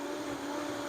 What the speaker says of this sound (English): And I'll blend this up until it's smooth.